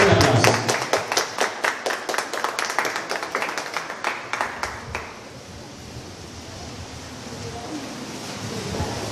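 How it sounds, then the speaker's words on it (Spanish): A studio audience gives a brief burst of clapping to welcome a guest on a provincial tour program, the claps loud and rhythmic at first, then thinning out and fading into a quiet, noisy room after about five seconds. "Fuerte aplauso."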